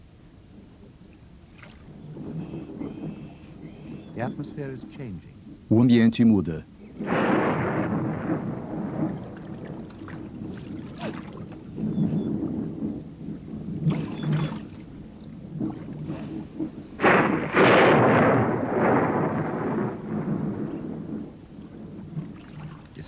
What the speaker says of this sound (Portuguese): Aproxima-se uma tempestade. A primeira da estação chuvosa.